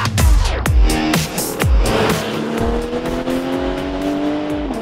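A Porsche 911 (991) Carrera 4 GTS on the road, its engine loud and close, with repeated sharp gear-change dips and rising revs over nearly five seconds, and no talk.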